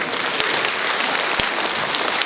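Dense, even applause from an audience at a stage premiere as a performer's sister is invited up, continuous clapping throughout at a steady level.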